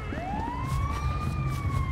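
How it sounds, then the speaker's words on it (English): An ambulance siren wails in GTA 5, its rising and falling tone sweeping steadily over a low rumble of traffic, fairly close and continuous throughout. "we got an ambulance going to save this girl"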